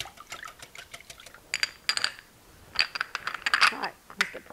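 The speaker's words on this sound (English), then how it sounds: "We're gonna whisk this all together." A whisk beating water and seasonings together in a bowl, giving quick irregular metallic clinks and taps in scattered bursts at close range.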